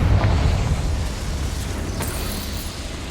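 A Confringo blasting curse goes off in Hogwarts Legacy, a loud, deep rumbling explosion with a sharp burst at the start, decaying into a sustained roar and crackle.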